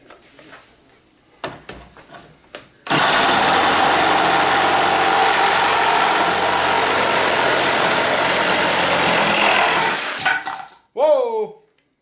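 DeWalt DCS380B reciprocating saw cutting with a second blade gives a loud, steady rasping buzz for about eight seconds after some handling knocks, then stops, followed by a short spoken exclamation.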